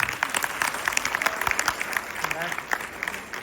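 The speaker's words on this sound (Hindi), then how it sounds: "तो आइए स्वागत करते हैं हमारे बच्चों का जोरदार तालियों के साथ" Audience applause greeting a children's fancy dress dance performance at a school event, a dense wash of many hands clapping steadily throughout with a few sharper claps standing out.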